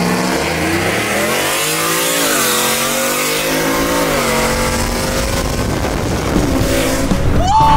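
A sleeper Ford F150 work truck racing, its engine loud and revving hard through rising gear sweeps, close and continuous with no talking.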